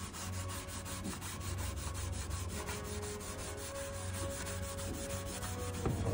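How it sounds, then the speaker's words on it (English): Steady rubbing and scuffing of the black gauge surround in a 1975 Ford E100 van before painting, a continuous abrasive scratching with rhythmic strokes, fairly close and alone without talk. "time to scuff and paint this black"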